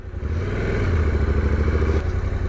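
A motorcycle engine runs steadily and close on a muddy desert track in Spain, a low throbbing idle-to-light-throttle rumble with a faint clatter and no talk.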